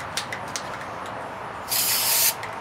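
A short spray-paint burst on a mermaid figurehead, a single loud hissing blast of about half a second after a few faint clicks.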